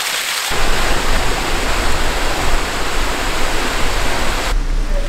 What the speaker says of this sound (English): I have to stop and pretty mesmerized with this little waterfall